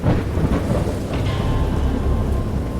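Rumbling thunder rolls beneath steady heavy rain, a stormy wash of low booms and hissing downpour with no voices.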